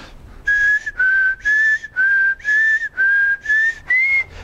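Someone whistles in a quick alternating pattern of short tones, about eight in a row, each slightly different and gradually rising in pitch, close and clear.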